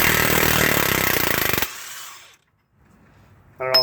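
A DeWalt power tool running on one-time-use brake bolts of a van, a loud close buzzing whine that cuts off abruptly, then near silence before another sound starts.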